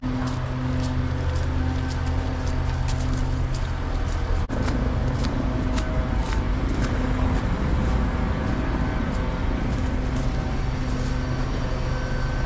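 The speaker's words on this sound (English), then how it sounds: "Lots of traffic." Steady city traffic in Riga, Latvia, a continuous broad rumble of cars and buses passing nearby at even loudness, with no talking.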